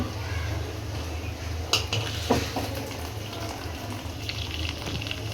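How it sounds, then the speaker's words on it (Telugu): Water pours and trickles steadily as cooked rice for prawn biryani is drained, with a couple of metallic pot clinks partway through. "రైస్ వాటర్ తీసేద్దాం."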